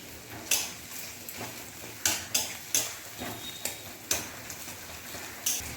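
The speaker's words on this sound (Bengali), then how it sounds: "এবার খুন্তি দিয়ে ভালো করে ভেঙে মাছের ডিমটাকে গুঁড়ো করে দিচ্ছি" A metal spatula scrapes and taps against a pan while fish roe fries in oil, giving sharp irregular clacks over a soft steady sizzle.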